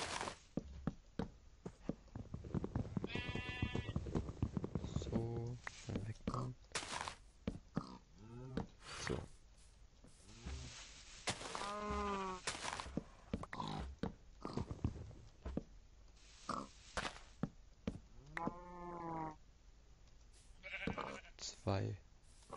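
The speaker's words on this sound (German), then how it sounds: "Hier ist gleich noch ein Schaf." Blocky sandbox video game with sheep wandering in an animal pen, several short game bleats scattered among frequent talk, with other clicks and effects.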